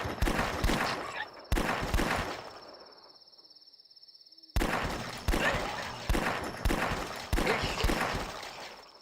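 Revolver shots from a .357 in a video game built in Unreal Engine, a series of sharp, loud reports in steady rhythm, broken by a quieter pause with a faint hum.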